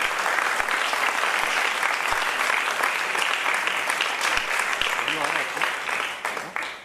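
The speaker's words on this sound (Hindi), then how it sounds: "उनका पुनः एक बार हम तालियों की गड़गड़ाहट के स्वागत करेंगे।" An audience at the concluding session of a course gives a thunderous round of clapping to welcome guest Rajat Sharma, loud and sustained with individual claps audible before it fades out at the end.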